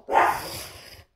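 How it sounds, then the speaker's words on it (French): A dog at home gives a single short bark, followed by a fading, muffled tail, fairly close and moderately loud with no talk over it. "il aboie, ça fait longtemps"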